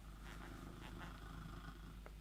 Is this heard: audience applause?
no